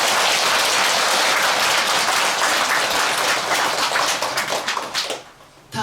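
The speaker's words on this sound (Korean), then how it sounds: "이렇게 아름다운 날 귀한 말씀을 해주신 덕저 주지스님께 다시 한번 큰 박수" Loud, sustained applause from an audience at a Buddhist temple dharma service for the abbot, dense clapping filling the space for about five seconds before tapering off abruptly.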